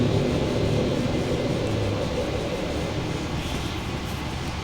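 Boeing 737-800 engines roar steadily during the climb after takeoff in a flight simulator game, a loud, continuous broadband drone with no talking.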